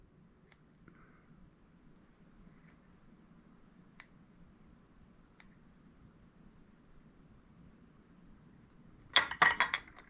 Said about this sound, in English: Taking my scissors upward.